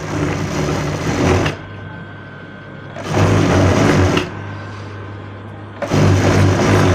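A sewing machine attaches a waistband strip to a child's designer lehenga, running loud and close in three bursts separated by quieter stretches of low motor hum.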